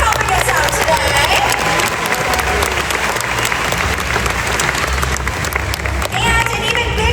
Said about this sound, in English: Let's hear it for Coquina and Roxy for helping us out today.